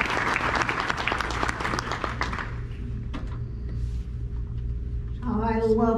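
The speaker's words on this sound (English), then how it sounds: "let's give her a round of applause" A crowd at a health care hall of fame awards ceremony applauds with loud, dense clapping that fades after a couple of seconds, then a person begins speaking.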